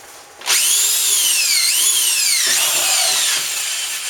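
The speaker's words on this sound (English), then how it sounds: "I'm just going to drill a couple holes." A power drill whines loudly and steadily while boring holes in a plastic self-watering bucket, its pitch sagging and rising as the bit bites, then easing slightly near the end, alone without talk.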